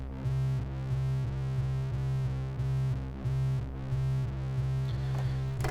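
An Arturia Jupiter 8V software synth preset drones with pulse width modulation and detuned oscillators, a buzzing tone pulsing in a steady repeating rhythm, moderately quiet with no voices.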